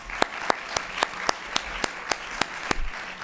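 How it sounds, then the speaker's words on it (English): Audience applause for conference speakers, heard as steady hand clapping with sharp individual claps standing out at a regular pace, moderately loud and sustained over the whole stretch. "Another round of applause for our speakers, please."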